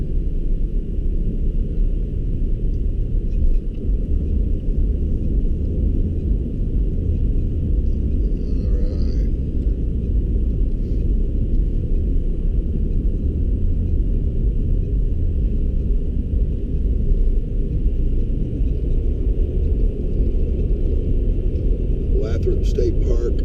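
A car cruising at about 60 mph on a Colorado highway gives a steady, loud low rumble of road and engine noise that runs unbroken throughout, with someone talking over it.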